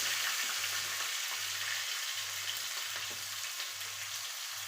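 Chopped onions fry with mustard seeds in hot oil for a ridge gourd dish, a steady close sizzle with faint crackles and a soft repeating low hum underneath, no voices.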